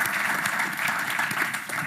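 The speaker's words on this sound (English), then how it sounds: "Another round of applause for them." Audience applause at a policy discussion event, a brief burst of steady clapping from a seated crowd, moderately loud and continuous with no voices over it.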